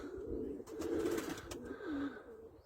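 Pigeons cooing and calling in the open air, fairly near and continuous over a soft background.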